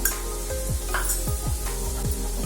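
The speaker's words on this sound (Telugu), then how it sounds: "ఆనియన్స్ ఈ మాత్రం ఫ్రై అయ్యాక పసుపు వేసుకోవాలి" Onions sizzle steadily in a hot pan with turmeric, a dense continuous frying hiss broken by a regular rhythm of spatula scrapes and stirs, close up and with no talking.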